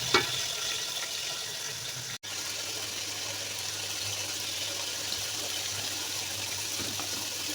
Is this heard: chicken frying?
yes